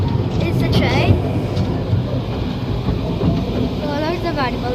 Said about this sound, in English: it's a rather wonderful railway. It's a train.